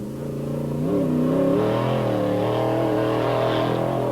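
A loud Class 8 race truck engine roars steadily and climbs in pitch as the truck accelerates hard off the start, the revving rising and wavering close by.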